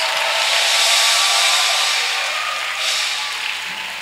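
A church congregation applauds and cheers in a sustained, dense roar that fills the room, steady throughout with a slight swell near the end.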